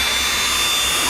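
A 775 DC motor runs on a 12 V battery at about 21,000 RPM, giving a steady, high-pitched whine with a dense broadband hiss. It holds constant and loud throughout, with no talk.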